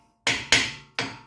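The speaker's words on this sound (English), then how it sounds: "And you're gonna wanna hammer them all the way in." Hammering a brake caliper pin into place on a VW Touareg front brake: three sharp metallic strikes, two close together then a third after a short pause, each ringing and decaying quickly.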